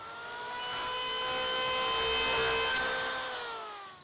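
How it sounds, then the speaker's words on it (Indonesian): A portable electric power planer runs across a wooden board, a high steady whine that swells in loudness through the pass and fades at the end, with no voices. "ketamlah papan sambungan menggunakan mesin ketam portable"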